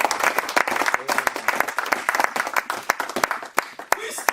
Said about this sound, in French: Applaudissez le Seigneur pour le prophète.